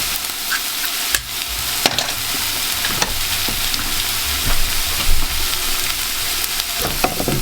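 Spices and tomato paste sizzling in a hot pan for a Mexican vegan tofu filo pie, a loud continuous frying hiss with occasional clicks of stirring.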